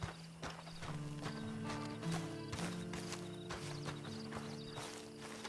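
Horse hooves clip-clop at a walking pace with sharp repeated knocks, and a horse whinnies over steady background music, from the video game Red Dead Redemption 2.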